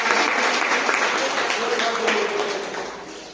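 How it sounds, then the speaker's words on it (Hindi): Audience applause at a community seminar on social and political issues, a steady dense wash of clapping filling the whole stretch at fairly close range, fading slightly toward the end. "तो हम चाहेंगे कि एक बार जोरदार ताली हो"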